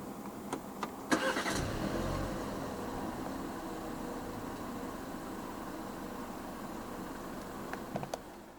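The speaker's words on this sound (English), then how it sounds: "Put your foot on the brake and press the start button located right here." Push-button start of a 2023 BMW 320i M Sport, a few soft clicks, then a brief starter crank and the engine catching before settling into a quiet, steady idle, with another couple of clicks near the end.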